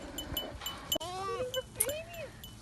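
Kiko goats bleating outdoors while being loaded into a trailer for a pasture move, several wavering cries in quick succession over a short stretch, fairly close and clear.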